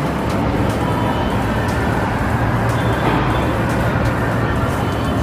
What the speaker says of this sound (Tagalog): Medyo traffic doon, no?